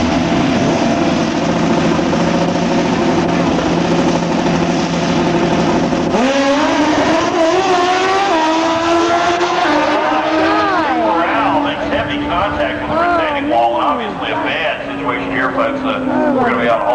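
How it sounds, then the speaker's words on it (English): Turbocharged drag racing motorcycles roar down the strip, a loud sustained engine howl whose pitch rises through gear changes. Crowd and announcer noise sit underneath. "Burrell runs the turbo bike on the Mobil 1 side of the track."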